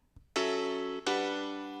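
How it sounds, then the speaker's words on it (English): Two sustained piano chords with a plain, synthetic General MIDI-style tone, the first cut off and replayed, the second ringing out and slowly fading. "it sounds like a general MIDI piano"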